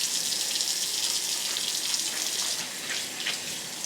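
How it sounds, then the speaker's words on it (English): Running water from a kitchen tap streams steadily over pieces of cabbage being rinsed, a continuous close hiss and splash that shifts slightly as the leaves move under the flow. "and then I just rinse them off"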